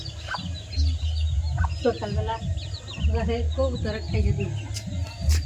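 Chickens cluck and call in short, repeated bursts close by, mixed in with voices talking throughout.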